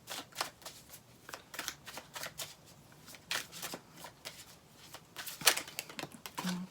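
Tarot cards are shuffled by hand, producing a close run of soft riffling flutters and taps in irregular bursts, with a louder snap near the end.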